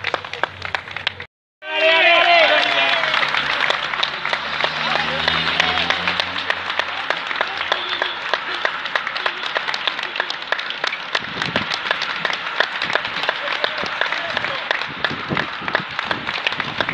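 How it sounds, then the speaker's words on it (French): Spectators at the Boucles de la Mayenne cycling race, during its final stage, clap loudly and continuously after a brief pause, a close, sustained wash of applause with scattered cheering and crowd noise underneath. "on applaudit tous les corps des boucles de la Mayenne"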